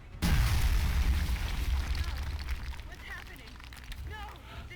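Grenade blast in the video game XCOM: The Long War, a sudden heavy boom right at the start that rumbles and fades slowly, with a voice talking over the tail.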